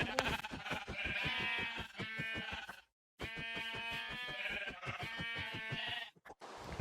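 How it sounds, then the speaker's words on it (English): Minecraft sheep bleating repeatedly as it is struck in the video game, two long strings of wavering, pulsing bleats separated by a short silence, loud and upfront with no talk. "Look at how many hits it takes me to kill the sheep"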